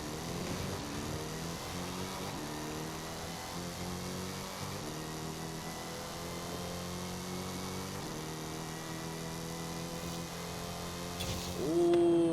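A Dodge Challenger Hellcat with a bigger supercharger and built motor launches and accelerates, its engine roaring steadily loud throughout with a rising whine near the end.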